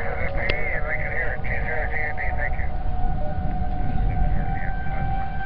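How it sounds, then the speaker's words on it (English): Tornado warning sirens wail during a severe storm in Lincoln, Nebraska, a distant rising and falling tone heard under radio chatter and people talking. "You can hear the sirens."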